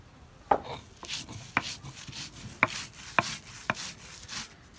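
Dried fish, green chili and onion ground on a flat grinding stone, heard as a series of sharp, separate scraping knocks roughly every half second, close and moderately loud, with no voices.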